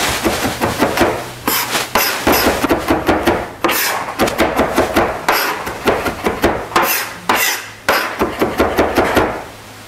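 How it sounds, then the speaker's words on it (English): A knife finely chops garlic cloves on a cutting board for spicy beet-green crostini, producing rapid, close, crisp taps in quick bursts separated by brief pauses, with no talking. "Both cloves, and then you're going to finely chop it."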